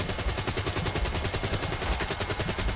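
Rapid continuous gunfire from a run-and-shoot character in the Call of Duty Black Ops III Dead Ops arcade game, fast evenly spaced shots at a steady loud level with no gaps.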